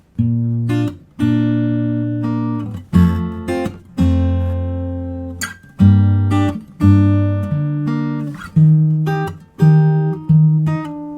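An acoustic guitar strums a sequence of full, ringing bar chords, each struck sharply then sustained, changing roughly every second or two, clear and close with no voices.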